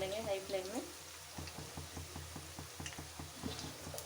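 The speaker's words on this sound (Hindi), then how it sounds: "एक बार निकाल के फिर से और एक बार इस तेल में डालेंगे हाई फ्लेम में।" Gobi manchurian, battered cauliflower pieces, frying in hot oil over a high flame for a second crisping, giving a steady close sizzle with spoon stirring and a voice speaking briefly at the start.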